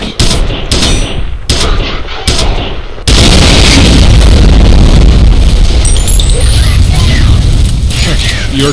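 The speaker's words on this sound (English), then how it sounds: "You're taking fire?" Gunfire and explosions in the F.E.A.R. shooter game: a run of loud, sharp shots in bursts gives way to a sustained, roaring wash of blasts and rattling fire, very loud and close.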